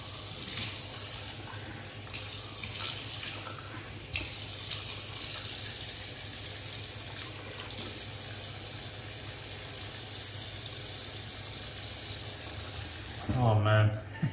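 Tap water runs steadily into a sink while a face is washed after a shave, a continuous close hiss with brief splashes, ending in a louder gush of water.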